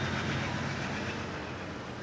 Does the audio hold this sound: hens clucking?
no